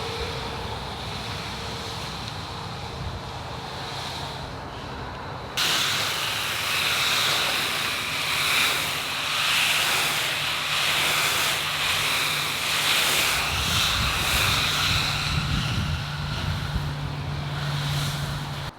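A steady, loud hiss of water spraying onto dry soil while seeds are watered in an abandoned greenhouse, starting abruptly partway through and running continuously to the end.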